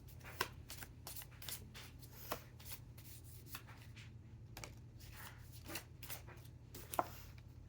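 A Moonology moon oracle card deck is shuffled by hand, producing a quick run of soft, papery riffles and slaps up close, repeating in irregular bursts over a low background hum with no speech.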